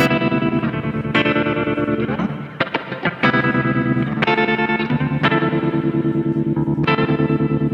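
Electric guitar chords through a Behringer UT300 tremolo pedal, pulsing with a steady, rapid wavering in volume, played loud and continuous with a few chord changes.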